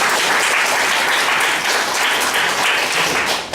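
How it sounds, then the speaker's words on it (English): Applause from a church congregation after a sermon segment, dense steady clapping from many hands filling the room, loud and continuous with no talk over it. "let's give him a round of applause"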